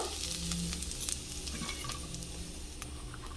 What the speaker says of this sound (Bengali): তেল গরম হয়ে গেছে, তাতে আমি গোটা গরম মশলা থেতো করে নিয়েছি, দিয়ে দিব।